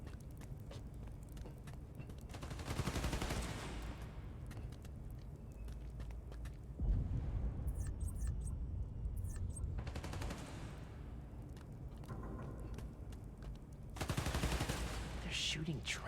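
Faint bursts of rapid gunfire come in several waves in the Spider-Man: Miles Morales game, each lasting a few seconds. Quieter stretches of ambient game noise and footsteps separate them.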